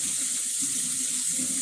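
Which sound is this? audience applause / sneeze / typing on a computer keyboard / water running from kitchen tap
water running from kitchen tap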